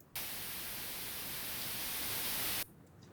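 A burst of broadband white noise, used as an input sound for an audio effect, hisses at steady loudness for about two and a half seconds, then cuts off abruptly into near silence.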